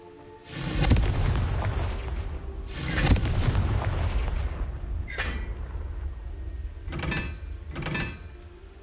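Confringo explosive spell blasts in the Hogwarts Legacy video game: a series of loud booming bursts, two big blasts followed by three shorter cracks over a sustained rumbling background, with no talking.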